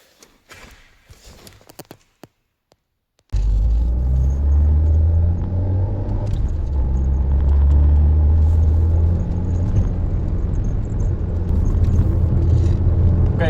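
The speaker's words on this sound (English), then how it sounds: "let's go for a drive and test the new shifter out" A car with a newly fitted short-throw shifter drives along, its engine and road rumble loud and steady after a quiet moment of shuffling at the start.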